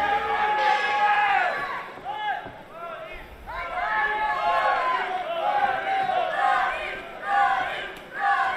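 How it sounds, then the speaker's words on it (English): A kickboxing event crowd roars in support of fighter Florin Lambagiu during his bout with Mickael Lopes Da Veiga, a loud, sustained swell of cheers and chanting voices filling the arena throughout, with brief dips between surges. "So a lot of support for Florin Lambagiu in the crowd."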